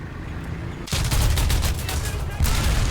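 An RH202 autocannon fires in a military vehicle combat video game at roughly 1,000 rounds per minute, a loud dense burst that starts suddenly and holds as a continuous roar of shots.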